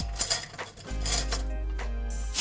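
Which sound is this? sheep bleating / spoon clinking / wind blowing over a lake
spoon clinking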